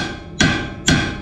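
Two sharp hammer blows land about half a second apart, each a crisp metallic knock with a short ringing decay.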